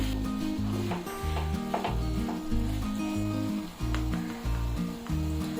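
Jaggery stir-fried in a pan for sweet coconut rice, a continuous loud sizzle with scraping stirring strokes and a low rhythmic bubbling, close up and without speech.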